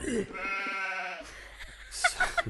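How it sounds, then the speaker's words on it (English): A goat bleats in a short, wavering call, fairly close and clear, followed by a few brief higher sounds. "Love the goat."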